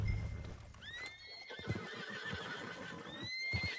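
A horse in the video game Red Dead Redemption 2 on PS5 gives a high, wavering whinny that rises and falls, with a second fainter neigh near the end, over busy low game ambience.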